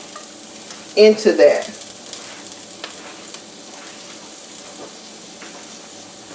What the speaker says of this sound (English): So we're going to saute the garlic and the herbs first.